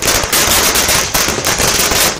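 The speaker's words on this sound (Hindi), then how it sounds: "आतिशबाजी का दौर शुरू हुआ तो शोर बंद ही नहीं हुआ।" Firecrackers and fireworks at a BJP election victory celebration burst in a dense, loud, unbroken crackle of rapid-fire pops with no pause.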